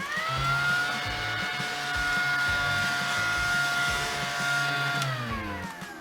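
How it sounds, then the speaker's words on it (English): A mini desk vacuum cleaner whines steadily with a high motor hum, running continuously up close before the pitch drops as it starts to wind down. "he's actually a little mini vacuum cleaner"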